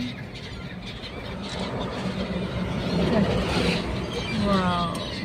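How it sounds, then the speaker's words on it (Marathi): Migratory seagulls calling along a bridge at Vasai, faint squealing cries over steady outdoor wind and traffic-like rumble, with people talking nearby. "ह्या पक्ष्यांना सीगल असं म्हणतात"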